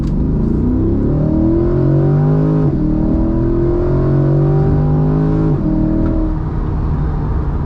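A Chevrolet C8 Corvette Stingray's V8 engine accelerates hard from close by, its loud, throaty roar rising in pitch through the gears with two brief drops at the shifts before climbing again.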